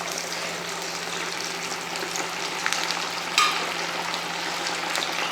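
Chicken pakoda pieces frying in hot oil, a steady dense sizzle and crackle that holds evenly throughout with a few brief louder pops.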